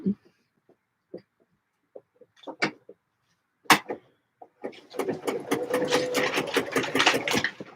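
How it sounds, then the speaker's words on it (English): A sewing machine stitching skirts starts up after scattered clicks and handling noises, then runs steadily and fairly close for the last few seconds, with brief talk early on. "We're on our third line of sewing."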